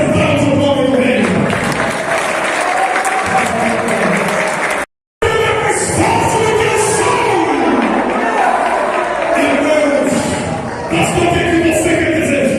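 Church congregation applauding during a worship service, a loud sustained roar of clapping and crowd noise with cheers and voices rising over it, broken once by a brief dropout before resuming just as strong.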